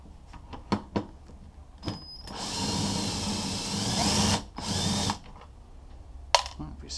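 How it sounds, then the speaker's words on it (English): Battery-powered drill or impact driver spinning a nut off a 60V battery pack for a 2014 China Post electric bike, a loud sustained whir of a few seconds after clicks and handling noises, close to the mic. "Well, if you spin it fast, the nut comes out."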